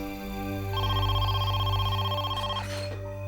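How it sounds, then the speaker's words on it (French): A telephone rings in a dramatized true-crime scene, a steady electronic trill held for about two seconds and then cut off, over a low background hum. "le téléphone sonna"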